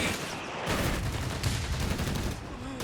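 .30 cal machine gun fire in Company of Heroes 3 gives dense bursts of rapid gunfire within a busy battle mix, with a commentator talking over the shooting.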